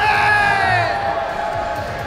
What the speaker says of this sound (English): Can I get a cheer for Kamone